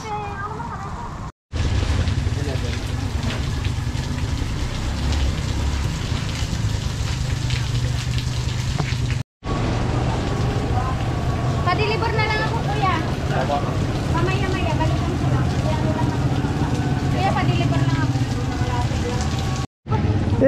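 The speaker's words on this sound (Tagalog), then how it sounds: "umuulan talaga ang panahon." Steady rain falling outdoors, a dense continuous hiss that runs throughout, broken briefly by two short cuts, with voices faint beneath it.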